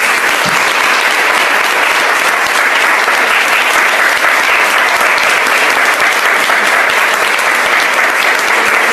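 A church congregation applauding during a communion worship service, loud and sustained dense clapping that fills the whole stretch without letup, close and even.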